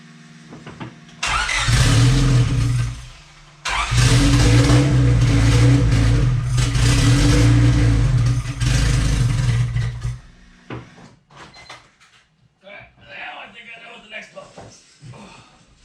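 A project car's engine cranks, catches and runs loudly, revving hard in two long bursts before cutting off, after which faint clatter follows.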